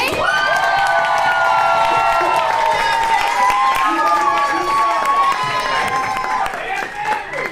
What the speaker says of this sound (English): If we could give a round of applause